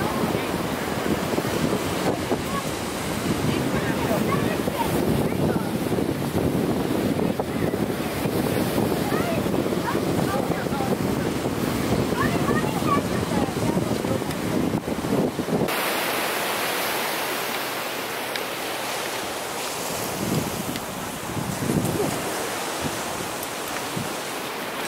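Steady wind buffeting the microphone over open ocean with waves and surf rushing beneath, loud and continuous; partway through, the wind drops and the sea noise grows softer.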